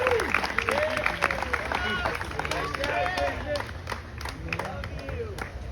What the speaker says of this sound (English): Can we get a round of applause for Christian?